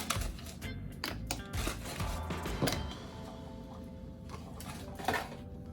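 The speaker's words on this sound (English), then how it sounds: "I'm just gonna add several pieces of ice" Several ice cubes drop into glasses of cocoa and strawberry milkshake in a home kitchen, a scatter of sharp clinks and clatters up close, with a few louder knocks among quieter rattling.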